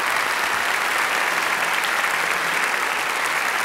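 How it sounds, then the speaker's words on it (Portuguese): Steady applause from an audience fills the whole stretch, dense clapping at an even level without pause. "Então, aplausos aqui para Ailton Krenak."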